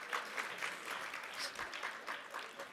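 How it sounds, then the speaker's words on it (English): Steady applause from a conference audience after a panel discussion, a dense patter of many hands clapping at moderate volume, continuing throughout. "let's give another round of applause to the international panel discussion"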